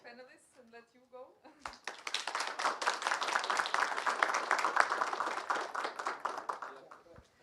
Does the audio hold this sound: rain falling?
no